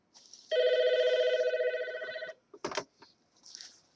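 A telephone rings indoors, a loud, steady electronic trill lasting nearly two seconds, followed by a few sharp knocks and clatters and a faint rustle.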